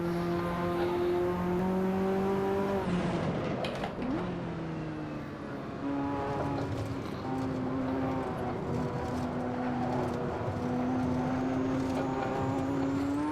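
A racing car engine in the Assetto Corsa video game drones at a steady high pitch, dipping briefly as a gear shift occurs, then climbing and holding again, loud and continuous.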